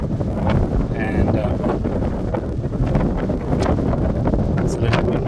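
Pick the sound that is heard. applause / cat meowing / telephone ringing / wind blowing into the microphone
wind blowing into the microphone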